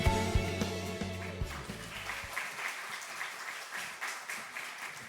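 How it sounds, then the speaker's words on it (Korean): A church congregation breaks into applause as sustained organ or keyboard chords fade out, steady crowd clapping continuing loud and even to the end. "큰박수를 격려하십시다"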